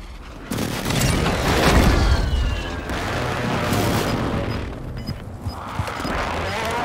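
A Call of Duty Warzone 2 airstrike lands in a loud, rolling run of heavy blasts and crashing impacts, with rumbling booms overlapping and then thinning into scattered debris and echo.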